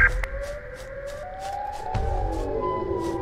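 A rising, wavering Siren Head siren wail from a video game sounds loudly and continuously, with a few sharp clicks and a low thump partway through.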